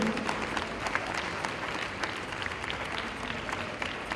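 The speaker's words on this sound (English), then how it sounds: "Please, a big round of applause for the players of Gateway College Kandy as the runners-up of the" Applause for the Gateway College Kandy netball runners-up at an awards ceremony, a moderate crowd clapping steadily and evenly, somewhat distant, without speech.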